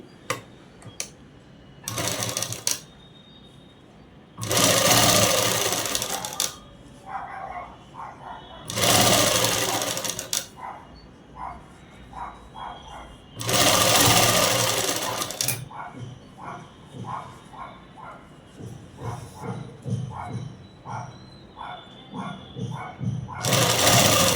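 A sewing machine stitches folded dress cloth in repeated loud bursts of rapid running, separated by quieter gaps with light ticking of the mechanism and handling.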